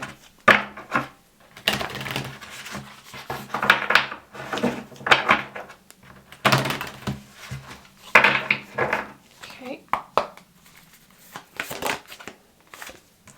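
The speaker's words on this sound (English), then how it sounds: "I'm going to give this a good old shuffle." Deck of tarot cards shuffled by hand in bursts of riffling and rustling, with brief pauses between rounds and a few soft taps and knocks, close and fairly quiet.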